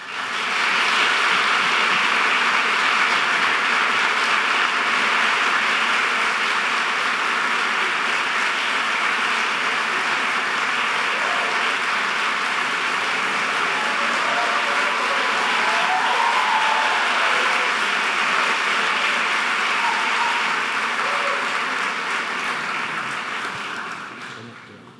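Sustained applause from a large, enthusiastic summit audience as guests walk onto the stage, a dense steady roar of clapping that holds for about twenty-five seconds and fades at the end.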